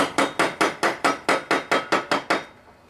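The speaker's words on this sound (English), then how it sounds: "as I'm hammering" Hammer tapping a deck bearing into a John Deere LA145 riding mower deck, eleven sharp, evenly spaced metallic strikes close up in a steady rhythm, then quiet, with no talking.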